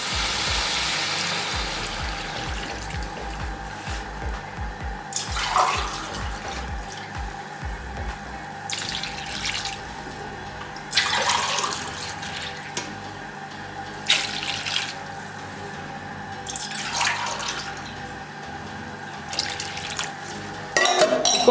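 Yakhni stock poured from a glass into a pot of fried rice for chicken pulao, a steady close liquid splash with several brighter sloshing surges as each glassful goes in.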